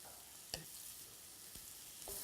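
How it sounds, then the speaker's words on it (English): Beef and red wine stew sizzles quietly in a pot, a faint steady hiss broken by three sharp scraping clicks of a spoon being stirred around the pot at intervals, with no voices. "I shall just stir this a little bit."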